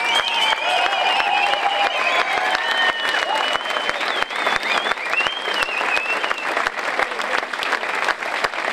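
An audience at a folk performance claps in sustained, dense applause that fills the whole stretch, loud and steady, with cheering voices and whistles mixed into the crowd noise.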